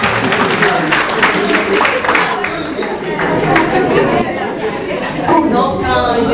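An audience at an event applauds amid loud chatter and voices, with clapping blended into a dense, continuous crowd din.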